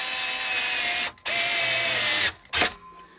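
An electric screwdriver drives screws into a Harley Benton Strat guitar, a loud, close, high whirring motor running in two long steady bursts with brief stops, then a short final spin.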